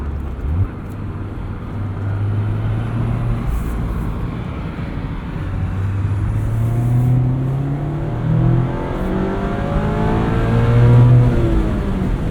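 A 2025 Mazda MX-5 Miata Club (ND3) engine drones steadily, its pitch climbing as it revs up toward the top of the rev range, loud and close with no talking.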